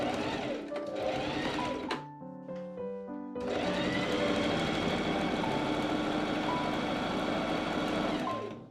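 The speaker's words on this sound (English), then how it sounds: "I machine top stitch along the side edges of my modesty panel." A sewing machine topstitching the side edges of a corset modesty panel, running in a fast steady whir that stops briefly for a few soft clicks and tones, then resumes and continues close up.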